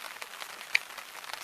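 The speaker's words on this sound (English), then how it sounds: "just raining hard enough to be a nuisance and get stuff wet" Rain falls on a tarp at a lakeside campsite on Buzzard Lake, making a faint, steady patter of soft, scattered drops with no voices.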